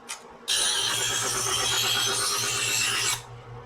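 Knife blade drawn through a knife sharpener in a single steady rasping pull lasting about three seconds, loud and close, with no talking.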